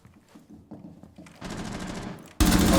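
Gunfire in a Rainbow Six Siege gunfight: sparse single shots at first, then a sustained burst of rapid automatic fire that grows louder and ends in a dense, close, very loud volley.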